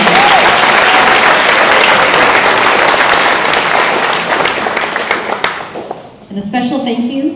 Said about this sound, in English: So a round of applause to all our music teachers and administrators here tonight.